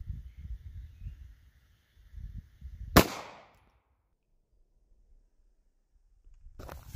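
A single sharp Winchester 9mm 147-grain JHP pistol shot fired into ballistic gelatin at about four to five yards, a loud crack with a short decaying tail, with faint rustling and handling before and after.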